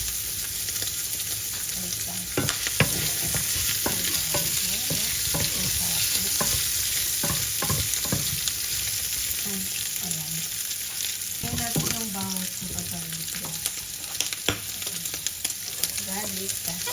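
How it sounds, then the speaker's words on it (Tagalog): Garlic sautéing with browned pork in a hot pan, a loud continuous sizzle close up, broken by repeated scraping and stirring strokes of a spatula. "Tapos ilalagay na natin yung bawang at saka"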